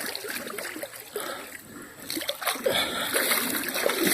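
Current of the Jacks Fork river in Missouri splashes and sloshes against the legs of someone wading through deep, cold water, a close, continuous rush that swells louder toward the end.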